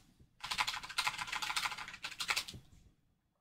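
Rapid typing on a computer keyboard, dense bursts of clicking keys in two runs with a brief pause between, close and fairly clear, then stopping into silence.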